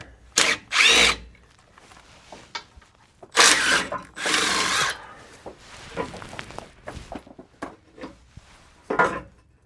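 Power tool whirring in several short bursts while removing bolts under a RAM 1500 pickup truck, close and loud, with clinks and rattles of metal and tools between bursts.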